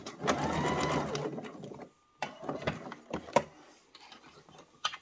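A domestic sewing machine runs in reverse to lock the seam of a fabric scrunchie, a close rapid mechanical whirr for about two seconds, then a pause and a few short clicks and taps.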